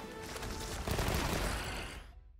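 A light bowgun fires a rapid stream of shots in the video game Monster Hunter Wilds. The dense, loud burst of overlapping blasts lasts about two seconds and then cuts off abruptly.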